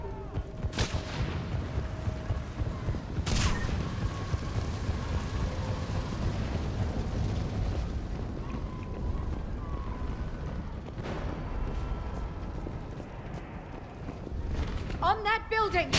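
Artillery fire support strikes boom and crack in the video game Mass Effect 3 during a battle on Thessia, several sharp blasts over a dense rumbling combat bed with shouting voices.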